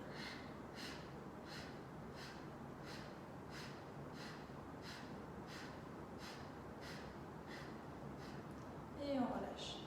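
Forceful Kapalabhati yoga breathing: a quick, even series of more than a dozen sharp nasal exhalations, faint and close, followed by a louder breath at the end.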